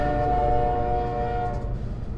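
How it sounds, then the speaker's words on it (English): A train rolls down the tracks, its loud, sustained horn blaring up close over a continuous rumbling under-layer, the horn easing slightly toward the end. "Got a train coming down the tracks here."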